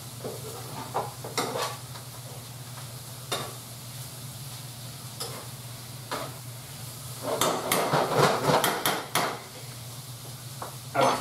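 Artichokes and pancetta fry in a pan, a steady low sizzle broken by sharp clinks and scrapes of stirring, with a louder burst of spoon-on-pan scraping and rattling partway through.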